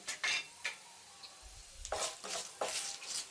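Rice seasoning with carom seeds, dried red chillies and salt is stirred and fried in a wok, with repeated scraping spatula strokes and bursts of sizzling, close and moderately loud.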